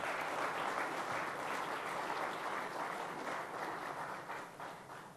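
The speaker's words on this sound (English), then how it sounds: "Please applaud for that." An audience at an India Today Group event applauds steadily, a dense wash of clapping heard from a distance that holds for several seconds and fades slightly toward the end.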